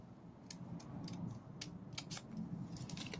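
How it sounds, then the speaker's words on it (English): Scissors snip through folded paper while a party pennant banner is being cut, giving a series of sharp, crisp cuts at an uneven pace, close and clear over a low background hum. "And then you cut. Make one big cut."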